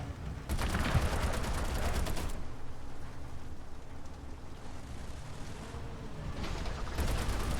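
Machine guns open up on a Stuka in War Thunder, with a heavy burst early, a quieter rumbling stretch, then firing again at the end.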